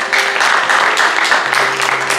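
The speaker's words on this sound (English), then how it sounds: "can you give the Lord a hand clap?" A church congregation clapping during praise and worship, a steady wash of many hands beating together in a loose rhythm, fairly loud and continuous with no talk over it.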